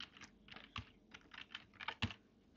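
Quick keystrokes rattle on a computer keyboard as a name is typed in while setting up a virtual machine, landing in short uneven bursts, close and fairly soft, with no voice.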